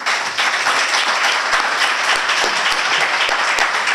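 An audience at a book launch claps in sustained, dense applause, loud and even throughout with no speech over it.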